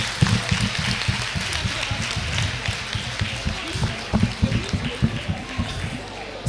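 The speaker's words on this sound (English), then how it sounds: "Please help me clap for them." Audience clapping at a film screening event at the College of Medicine, University of Ibadan: a steady wash of applause runs throughout, with a voice speaking over it.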